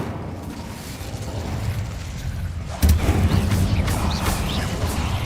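The Incendio fire spell bursts in Hogwarts Legacy in a single sudden whoosh and burst about halfway through. A low rumbling roar follows over background ambience.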